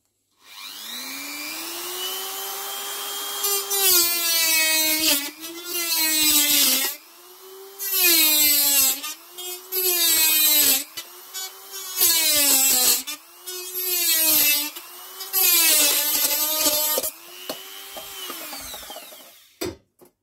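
A rotary tool whines in repeated bursts, pausing and revving again as it cuts through plastic; loud and close, no talking.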